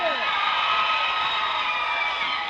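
Basketball crowd at a high school game between Perry County and Waverly erupts in sustained cheering and whooping after a block, a loud dense roar filling the whole moment without letting up.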